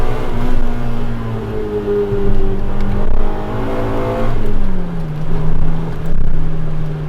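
A Honda Civic Type R EK9 engine revs and accelerates up through several gears, loud and close, the tone climbing and dropping repeatedly.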